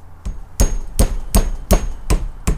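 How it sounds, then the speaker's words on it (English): Brass hammer tapping a snap ring into its slot on a U-joint during replacement; seven sharp, evenly spaced metallic taps, close and loud. "So Jordan just tapped on it with the brass hammer."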